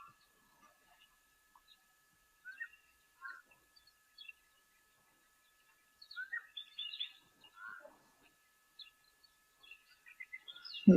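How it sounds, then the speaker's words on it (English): A black-headed oriole calls from the background at a bush waterhole, giving short, liquid whistled phrases in scattered bursts among other faint birdsong, with no talking. "I can hear what sounds like a black-headed oriole calling, actually, in the background here now."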